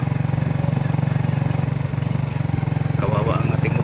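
A motorcycle climbs a steep mountain road toward Sitio Libag. Its engine hums steadily and strains with a pulsing, labouring note, and people talk over it throughout.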